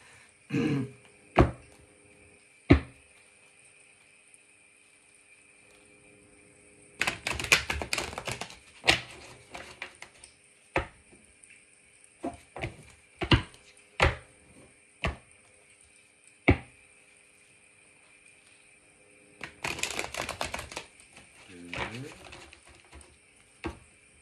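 Playing cards shuffled by hand in repeated bursts, with a few sharp isolated taps and snaps between them, fairly close and alone, with no talking.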